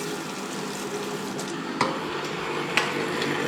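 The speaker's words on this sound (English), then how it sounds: "Just going to rinse that one off." Water runs and splashes while a Magimix blender cup is rinsed, a steady close wash of noise broken by two sharp clinks or knocks.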